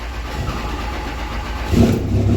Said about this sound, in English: This truck starts up the same way, whether it's been plugged in or if it's 0 degrees outside